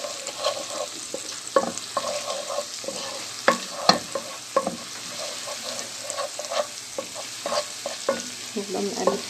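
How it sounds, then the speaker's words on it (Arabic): Garlic for camel liver is stirred as it fries in a pan, a steady low sizzle broken by repeated close scraping and clinking of the spoon against the pan. "نفضل نقلب فيها كده عشان تاخد لون واحد"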